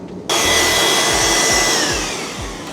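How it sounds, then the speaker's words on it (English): A vacuum cleaner switches on abruptly and whines loudly and steadily as it sucks up debris from a drag-racing Subaru WRX. Small rising and falling tones mark bits being pulled through the hose, and the sound eases slightly toward the end. "We'll vacuum all this out real quick"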